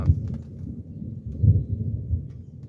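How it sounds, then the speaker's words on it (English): Low rumbling thunder rolls continuously at a campsite, a steady deep roar swelling in the middle with no voices. "Hey, there's thunder."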